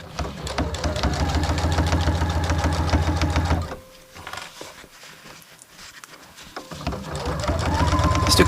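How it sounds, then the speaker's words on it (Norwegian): A sewing machine stitching an anorak runs in a steady rapid mechanical whir, loud and close. It stops for about three seconds of quiet and then starts up again. "så sy rolig og forsiktig."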